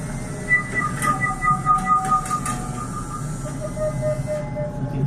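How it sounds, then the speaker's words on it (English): 3D printed whistles sound steady, thin tones that jump between pitches as they change modes, held over a breathy, hissing rush of air at moderate loudness. "You can hear the whistles changing modes."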